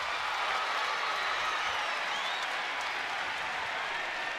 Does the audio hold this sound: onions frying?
no